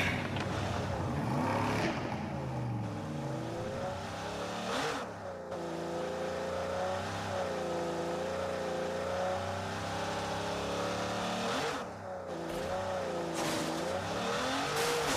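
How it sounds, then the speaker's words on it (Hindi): A racing car engine in the mobile game BGMI, from a set of Aston Martin cars, revs in repeated rising and falling sweeps with a couple of sudden drops. It sounds close and steady, as if from the driver's position. "अब आती है रेसिंग कार गाइस।"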